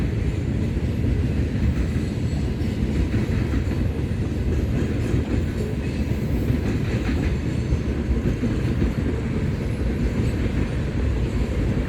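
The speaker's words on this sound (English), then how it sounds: "I don't know which train this is" Freight train with a rear DPU rolling through Fremont, Nebraska, producing a loud, steady roar and rhythmic clatter of wagons passing close by, continuous from start to finish with no voices.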